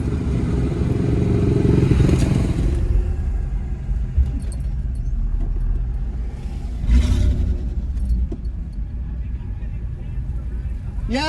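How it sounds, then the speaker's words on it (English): A Land Rover Discovery II engine runs with a catastrophic misfire, a loud, steady, uneven low rumble and clatter close by, with a few brief noises rising above it. "The misfire is catastrophic."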